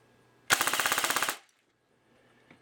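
An airsoft gun fires a single rapid full-auto burst of about a dozen evenly spaced, sharp cracks during a rate of fire test, loud and close, then silence.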